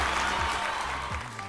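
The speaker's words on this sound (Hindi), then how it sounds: "थोड़ा मूड में ताली बजा दीजिए।" Audience clapping at a film award show, continuous broad applause from a large crowd, loud and even throughout with no talk over it.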